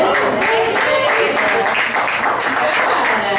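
An audience claps after a song, steady hand applause filling the room under a speaking voice, loud and sustained without a break.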